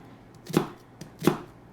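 Two sharp knife strokes through an onion on a cutting board, cutting it into planks before dicing, spaced about 0.7 seconds apart, close and fairly quiet with a faint tap between them.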